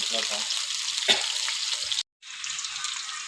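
KFC-style chicken frying in hot oil, giving a steady bright sizzle with a brief stir or splash and a momentary break before the sizzling resumes.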